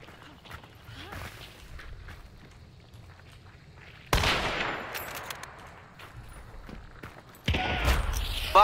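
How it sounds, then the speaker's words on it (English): Two loud, close blasts of Romero shotgun fire in Hunt: Showdown, each a sudden burst with a long rumbling tail, the second arriving about three seconds after the first, following a stretch of quiet ambient background. "Fucking shotgun. He's got a Romero."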